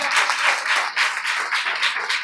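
A congregation claps loudly and steadily at a Telugu Christian service, a dense, continuous wash of many hands with no break for the full stretch.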